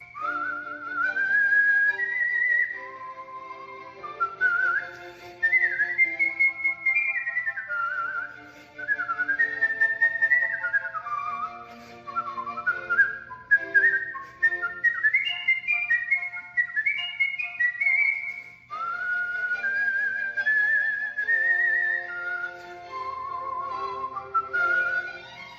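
A bass whistler performs long, agile melodic whistling with high trills and sweeping runs, sustained and fairly loud, sounding like an operatic vocal line rendered entirely in whistle.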